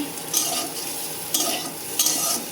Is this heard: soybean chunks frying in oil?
yes